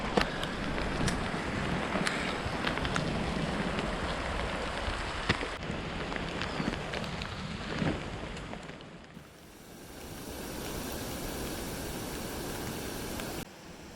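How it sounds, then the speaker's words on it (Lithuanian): Rain falls during a ride along an asphalt road, a steady hiss of wet spray and wind rush that thins and quiets toward the end; no voices. "Truputį aprimo lietus, bus ramiau važiuoti"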